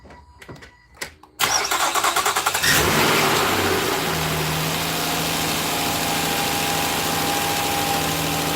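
A newly installed Nissan Maxima engine cranks briefly with a rapid starter chatter, then catches and settles into a loud, steady idle close by, with no one talking.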